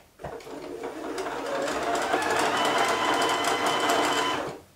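A sewing machine winds thread onto its bobbin, whirring steadily and loudly for several seconds after a quick start, running at an even, fast pace with no voices.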